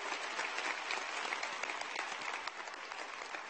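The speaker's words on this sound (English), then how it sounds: "Let's give a round of applause to the faculty and staff at Marshall High School" A crowd at a Marshall High School graduation ceremony applauds faculty and staff, a steady wash of many hands clapping from a distance, holding evenly throughout.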